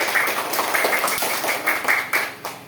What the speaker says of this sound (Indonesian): Sekarang ayo kita sama-sama tepuk tangan untuk hasil tersebut